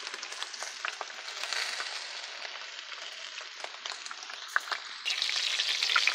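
Pork meat browning in a hot pan before purslane goes in, a constant crackling sizzle with scattered pops and a louder surge of frying near the end.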